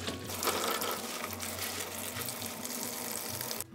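Tap water runs steadily over fresh spinach in a kitchen sink, rinsing sand and mud from the root ends, a close, continuous splashing rush with no talk.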